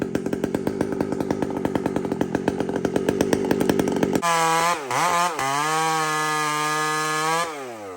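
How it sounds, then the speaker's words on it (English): A chainsaw bucks firewood from blowdown timber, first chugging in a fast pulsing rhythm under load, then revving into a loud, steady, wavering whine close by. "I'm bucking firewood"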